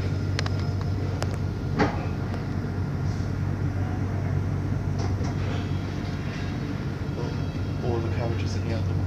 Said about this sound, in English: All the doors in the other carriage are open.